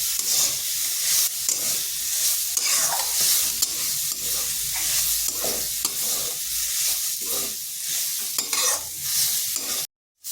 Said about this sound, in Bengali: নারকেলটা হালকা ভেজে নিচ্ছি